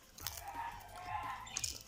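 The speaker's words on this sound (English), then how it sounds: "You could probably hear us crunching, right?" Potato chips crisped in a microwave chip maker are chewed close up, with quiet crunching bites repeating over about two seconds and no talk.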